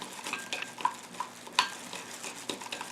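Colored sodium alginate solution being mixed with a utensil, soft swishing and scraping strokes repeating irregularly with a few light clinks against the container, close and quiet.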